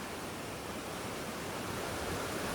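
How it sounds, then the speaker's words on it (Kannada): Forceful river water rushing past a bridge, a loud, constant broadband roar that continues without pause and with no talking. "ತುಂಬ ಫೋರ್ಸ್ ಆಗಿದೆ ನೀರು"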